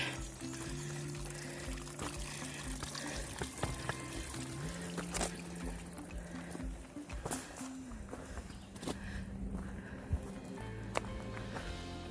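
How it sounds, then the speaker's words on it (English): Runoff from the previous night's heavy rain runs as a small creek down a hiking trail between Unicoi Gap and Sassafras Gap. The water pours and trickles steadily and close by, with occasional footsteps and a faint steady hum. "It's gonna have little creeks, rivers coming down the trail here."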